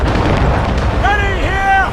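Ship cannons fire in Assassin's Creed Rogue, heavy booming bursts rolling across the opening second, followed by shouted voices of the crew over lingering rumble.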